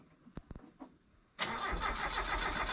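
A Chevrolet LUV 4x4 project truck is started from a battery. A few faint clicks come first, then the engine catches abruptly and settles into a steady, fairly loud idle.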